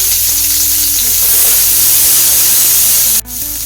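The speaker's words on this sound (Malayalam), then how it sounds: "ഇനി ഈ പാനിൽ തന്നെ നമുക്ക് ഉള്ളിയും ഒന്ന് വറുത്തെടുക്കാം" Onions frying in a pan for kovakka theeyal, a steady loud sizzle with continuous hiss close by, briefly dipping near the end as the pan is disturbed.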